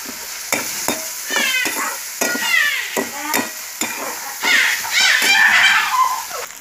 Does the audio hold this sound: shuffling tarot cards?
no